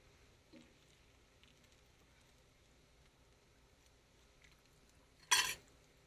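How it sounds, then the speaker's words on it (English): Bacon flipped on a breakfast griddle gives one short, sharp clatter of a spatula near the end, over a faint steady sizzle and quiet background. "Now I think I'm going to turn the bacon."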